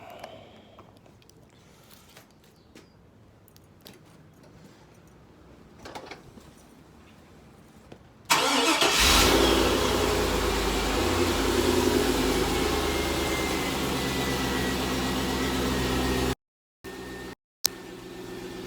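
A loud, steady engine rumble kicks in partway through after a quieter stretch of low noise, running continuously with brief cutouts near the end.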